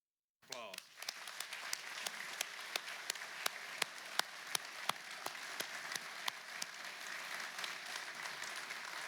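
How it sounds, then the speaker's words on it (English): An audience applauds at a memorial ceremony for a fallen state trooper: sustained, dense clapping starts abruptly and holds steady, with sharper individual claps standing out over the crowd. "Applause."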